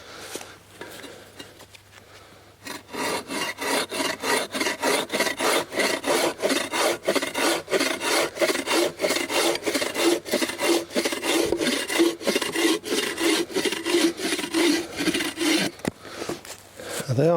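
A long bow saw rips through firewood outdoors in steady, fast back-and-forth strokes, each rasping pass loud and close, continuing without pause for well over ten seconds after a brief quiet start.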